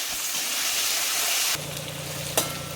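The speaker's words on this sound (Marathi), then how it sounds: "आता आपण हे परतून घेऊ चांगलं." Potatoes sautéing in a pan for poha, a steady close sizzle and hiss of frying that drops slightly in level partway through, with a brief stirring clink near the end and no talk.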